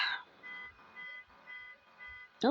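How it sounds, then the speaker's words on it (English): A car alarm sounds faintly in the distance, pulsing on and off in a steady rhythm of electronic tones, heard faintly behind a quiet room, with a brief voice sound right at the end. "car alarm."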